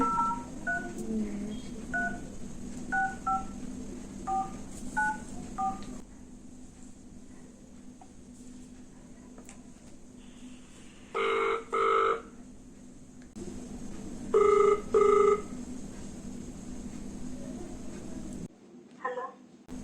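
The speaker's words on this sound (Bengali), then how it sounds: "আমি মায়ের মোবাইল থেকেই ওকে ফোনটা করব" A run of phone keypad tones beeps out a number, then a ringback tone sounds in repeated paired bursts, with low background noise throughout.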